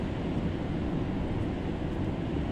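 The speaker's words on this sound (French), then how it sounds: "L'océan est relativement agité, il s'est calmé après une nuit de tempête" Rough Atlantic Ocean surf after a stormy night, a steady broadband wash of breaking waves with wind noise, continuous and fairly close, no voices.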